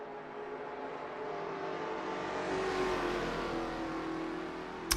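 A Holden Commodore race car engine in Assetto Corsa drones steadily at high revs, holding a sustained whine that rises slightly and stays loud and continuous without talk.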